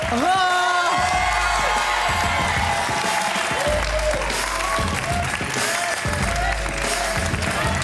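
TV studio audience applauding a guest singer on a French late-night show, sustained clapping with some cheering and whoops, loud and continuous, with music or tones underneath.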